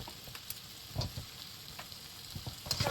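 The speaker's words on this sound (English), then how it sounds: "Now just keep stir fry them." Food stir-fries in a pan with a quiet, steady sizzle. Soft scraping strokes of stirring come at irregular intervals.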